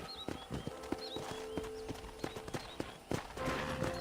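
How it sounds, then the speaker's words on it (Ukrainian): Horse hooves clip-clop at a steady walking rhythm on a ranch in the Red Dead Redemption video game, with birdsong chirping in the background. "I picked out a fine horse for you."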